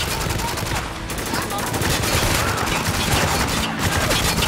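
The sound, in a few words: gunfire in the video game Spec Ops: The Line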